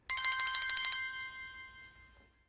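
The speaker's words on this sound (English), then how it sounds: "you can make your phone ring by clicking this button, and it'll sound off even if it's on silent." An Android phone set to ring remotely through Android Device Manager gives a bright, fast-pulsing electronic ring for about a second. A sustained tone follows and fades out. The sound is close and clear, with no talking.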